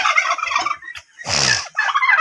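Turkeys gobble in a poultry pen, a close, loud rattling gobble in the middle, with other fowl calling before and after.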